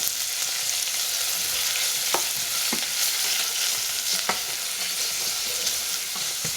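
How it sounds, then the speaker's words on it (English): Onions frying in oil in a pot on medium heat for vegan Ghanaian oil rice, a constant close hiss and crackle with a few scraping strokes of a spoon stirring through it. "So now we're gonna fry the onions. And of course your pot is on medium, and just stir it."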